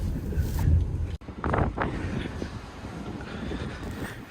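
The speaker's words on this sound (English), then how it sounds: "Too windy inside the ferry." Strong wind buffets the microphone aboard a car ferry crossing in Norway, a steady low rumble with gusty roar and a sudden brief dropout.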